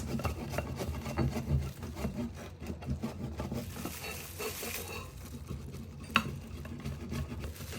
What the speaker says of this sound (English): to grate this Parmigiano Reggiano